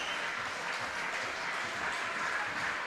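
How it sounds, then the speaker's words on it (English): Crowd clapping in the stands at a baseball park during an Intercounty Baseball League game between the Brantford Red Sox and London Majors, a steady wash of scattered applause heard from a distance without a break. "The claps are heating up around the park."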